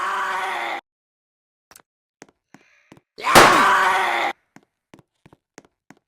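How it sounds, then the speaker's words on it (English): A zombie in a Roblox Brookhaven zombie-apocalypse game lets out a loud, drawn-out moan, cut off abruptly, then a burst of harsh noise follows a pause, with scattered small knocks and taps in between and after. "Oh great, well, time to take this zombie out."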